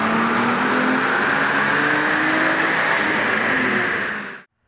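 Single-turbo Toyota Supra engine revving hard on a dyno during a pull, a loud steady sustained roar with a rising tone that cuts off abruptly at the end, no talking.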